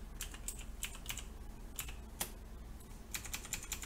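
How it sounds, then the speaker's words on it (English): Keys clack on a computer keyboard in short irregular bursts of quick taps, close and fairly quiet, over a low steady room hum with no talk. "See, there goes my typing."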